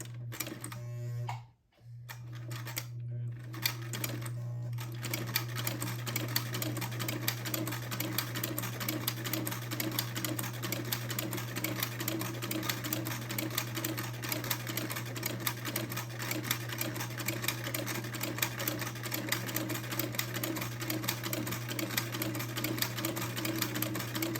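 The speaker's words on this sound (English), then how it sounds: "And then I will slowly start sewing my buttonhole." A sewing machine stitches a buttonhole on a child's heirloom bubble outfit, starting after a brief pause and then running as a fast, even mechanical clatter with a steady motor hum, close and with no talking.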